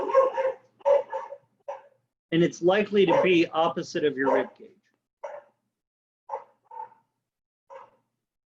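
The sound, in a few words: dog barking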